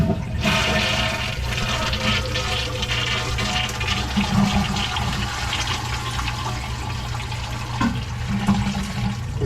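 An old basement-plumbed toilet flushes and refills with a steady, loud rushing of water that carries on for several seconds, close by and without speech.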